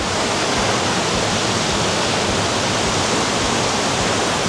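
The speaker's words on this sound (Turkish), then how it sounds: "suyun muhteşem sesi burada sizi karşılıyor" A mountain stream's rushing water roars steadily and broadband, loud and close, with no pauses or voices, in Muğla, Turkey.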